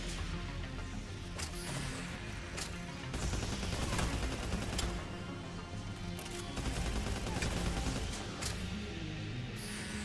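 Rapid gunfire and missile blasts in a Mass Effect firefight against Geth forces, bursts of sharp cracks and heavy impacts layered over a dense battle din, loud and sustained throughout.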